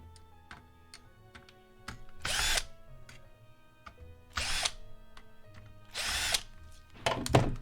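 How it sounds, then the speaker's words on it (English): A power drill whirs in short bursts during a Wii console teardown, four loud spurts of a second or less separated by quieter ticking and handling noise, close to the microphone. "how loud is the drill"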